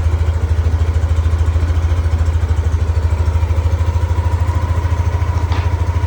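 A motorcycle engine idles right after starting, its close, even, throbbing putter holding steady, with light mechanical clatter on top.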